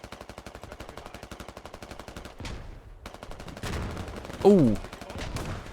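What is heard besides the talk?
hand grenades and gunfire in a video game battle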